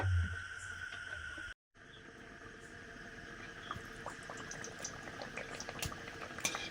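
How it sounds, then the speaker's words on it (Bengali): Soft, steady sizzling and bubbling of luchi frying in hot oil in a wok, with a brief gap of silence early on, then continuous crackle. "প্রথম লুচি আবার কড়াতে ভাজা শুরু হয়ে গেছে"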